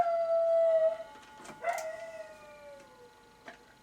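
A dog howls at midnight, with one long sliding howl, then a short yelp and a second descending howl that trails off, fairly close and loud with no talk.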